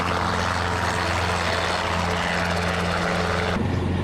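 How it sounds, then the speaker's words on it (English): A Westland Wessex HAS-1 helicopter flies at the 1966 Farnborough Airshow with a loud, continuous engine and rotor roar. "The Westland Wessex HAS-1."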